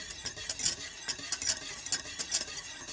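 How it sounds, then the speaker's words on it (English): A flaxseed gel mixture being stirred in a pot, heard as rhythmic, repeated scraping strokes, close and fairly quiet, with no talking. "I'm still mixing, stirring"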